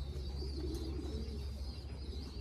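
Pigeons in a racing pigeon loft coo softly and steadily over a low, constant background hum, with no voices.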